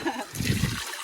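Water splashes and trickles during washing outdoors on a hiking trip, a brief close gush lasting about a second.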